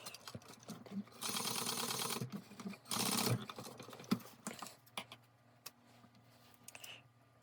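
Sewing machine back stitching at the start of a seam on a custom fabric pack, with two short, loud bursts of rapid stitching followed by scattered clicks and handling noises, close by with no talk.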